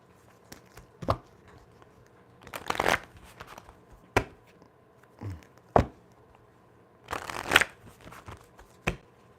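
Tarot cards shuffled by hand in several quick riffling bursts separated by short pauses and light taps, close and fairly quiet with no talking.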